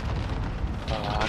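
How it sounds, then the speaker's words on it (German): A grenade going off in the Call of Duty: Modern Warfare multiplayer game, heard as a short dull booming burst of noise with a little wind-like hiss. "Ah, Granate."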